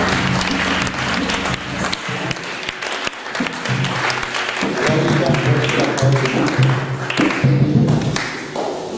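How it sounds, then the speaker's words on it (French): A church congregation claps and cheers loudly and continuously, with scattered shouts and thuds within the sustained applause. "Encore les acclamations."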